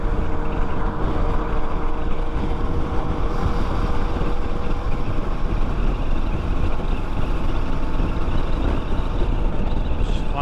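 Engine drone and wind rush from a Kawasaki Z800 and KTM 390 Adventure on a morning ride on the road to Igatpuri, a loud, steady roar throughout with a brief spoken remark over it.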